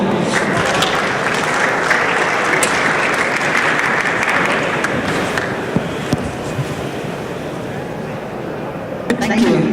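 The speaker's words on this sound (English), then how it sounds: "Can we give them a round of applause, please?" A summit audience applauds a travel panel with loud, dense clapping from many hands that holds steady, then thins slightly toward the end as a few final claps stand out.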